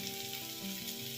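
Mustard seeds, urad dal and onion sizzle and fry steadily in hot coconut oil, a soft, continuous crackle close by with no talking.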